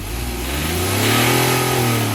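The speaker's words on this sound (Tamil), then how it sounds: "ஐ10ஓட இன்ஜின் சவுண்ட் கேளுங்க." Hyundai i10 Nios engine revving up close, its loud mid-pitched drone rising steadily in pitch over about two seconds, with no voices.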